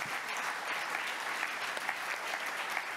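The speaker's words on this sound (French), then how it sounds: "on peut les applaudir" An audience at a closing plenary session applauds the companies taking part, a dense, even patter of many hands clapping at moderate distance.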